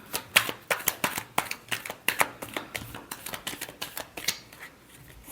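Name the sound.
shuffling cards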